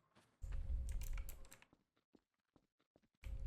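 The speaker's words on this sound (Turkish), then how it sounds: "Senin ne olduğunu anlayabiliyorum klavye sesinden şu an." Rapid keyboard typing up close, a dense burst of clicks, then scattered single keystrokes before another quick flurry.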